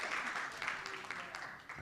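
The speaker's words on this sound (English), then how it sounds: "Big round of applause once again" An audience at a London startup scale-up showcase keeps up a round of applause, fairly soft and distant, holding steady for its short span with faint voices in the room.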